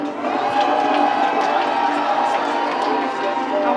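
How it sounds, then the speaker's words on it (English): A crowd of spectators cheers for Norway at the IQA European Games 2022 quadball final. The cheering, shouting and clapping run loud and steady throughout. "let's have a cheer if you're supporting Norway."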